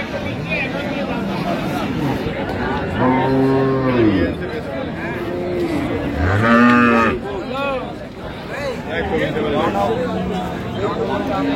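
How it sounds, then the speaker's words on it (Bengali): Dairy cows and calves low at the Ambari cattle market, several drawn-out, loud moos rising over a murmuring crowd while people talk close by. "গাভী বাছুর আমরা দেখছিলাম এখানে।"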